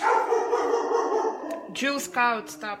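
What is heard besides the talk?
dogs barking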